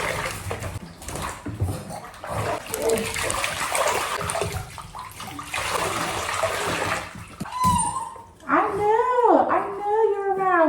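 Water runs and splashes over a dog being rinsed during a bath, a steady wash of noise; near the end the dog whimpers in several rising and falling whines.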